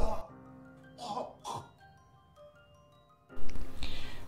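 A man coughs and clears his throat in a few short rough bursts at home, then a louder noisy stretch follows.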